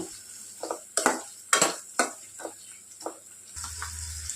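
Halved green chillies frying in a pan for egg biryani and egg curry: a soft sizzle under repeated scraping and stirring strokes of a spoon against the pan, several sharp close taps at irregular intervals.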